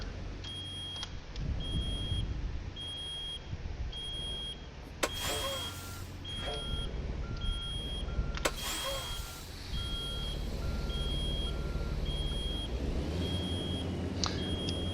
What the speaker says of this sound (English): Oh, yeah, low brake pressure.